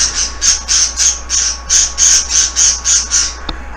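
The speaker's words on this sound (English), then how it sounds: "please forgive my birds in the background" Pet birds squawking indoors, a steady run of about a dozen sharp, shrill squawks in quick even rhythm, fairly loud and alone with no talk.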